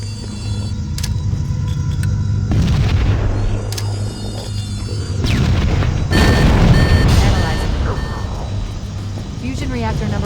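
A fusion reactor explodes in the Halo: Combat Evolved game, with loud booming blasts and rumbling debris in bursts, mixed with alarm tones and electronic effects, while a voice speaks over it.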